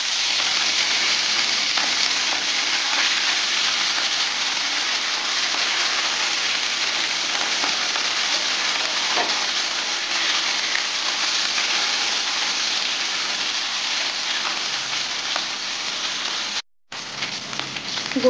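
Rohu fish frying in hot oil in a wok, a loud, steady, dense sizzle with crackling spits that carries on without pause and cuts out sharply near the end.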